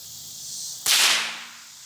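Bolt-action .22 squirrel rifle with a Tasco scope fires a single sharp, loud crack that rings out and decays over half a second against a quiet outdoor background, no talk.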